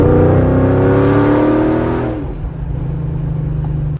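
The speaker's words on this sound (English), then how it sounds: "So right now it's headers all the way to X pipe to the stock resonator and back with no muffler, and it sounds insane." Loud V8-style car exhaust running headers into an X pipe and stock resonator with no muffler, revving high then dropping to a deep, steady rumbling idle, close and alone.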